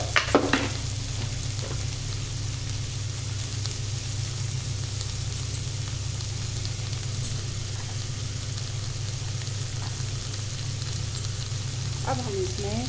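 Tomatoes cooking with salt in a pan give a steady, continuous sizzle close up, with a low constant hum underneath and a few faint scrapes near the start and end.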